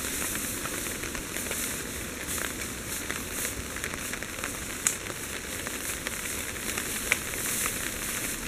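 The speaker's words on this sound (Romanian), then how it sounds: "Pus ciorbica să fiarbă." A simple forest soup simmering in a pot over a campfire in light rain, giving a steady, close hiss and faint sizzle with occasional small crackles throughout.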